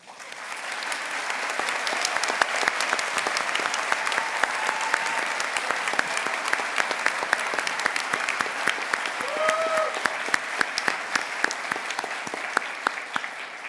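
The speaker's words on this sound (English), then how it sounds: "We applaud you." A commencement audience applauds faculty at a spring art and design college graduation, producing a sustained, full roar of clapping across the hall. A couple of faint voices or whistles briefly rise above it midway.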